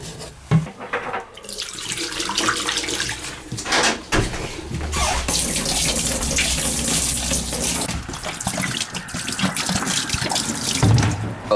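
Water pours steadily from open taps in a barn's summer apartment being winterized, a loud continuous gushing hiss running almost the whole time, with a few clunks and knocks near the start.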